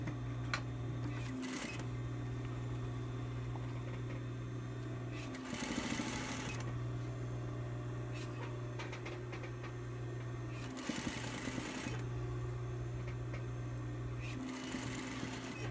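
A sewing machine top-stitches a fabric panel for a five-panel cap in steady, fast mechanical whirring runs, broken by short pauses and small handling clicks between bursts, close and fairly quiet.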